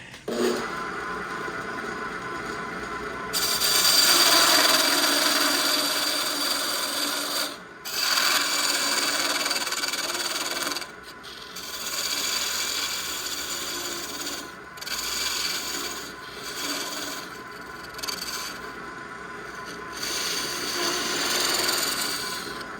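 Rough rubbing and rasping on a wooden tool handle as half an inch is taken off, coming in uneven strokes and bursts with brief pauses between passes, close and moderately loud.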